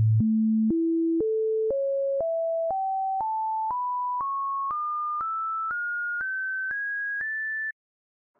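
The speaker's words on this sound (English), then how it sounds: "Here's what the harmonic series sounds like starting on A2." Pure sine tones step upward through the harmonic series from A2, each note a short even beep a half second long, the steps narrowing as the pitch climbs, with no voices.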